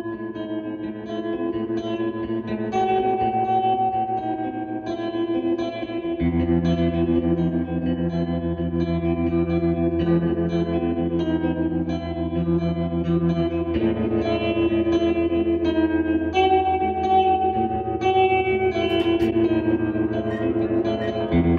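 Electric guitar plays sustained chords and notes through a repaired Fender Twin Reverb tube amplifier, warm, with steady volume, reverb and slight overdrive, no voices.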